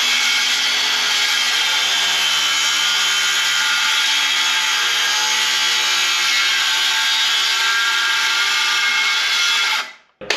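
A chainsaw cuts through wood during interior finishing work on a cabin loft railing, a loud, steady, continuous buzzing roar that holds for about ten seconds and then abruptly cuts off.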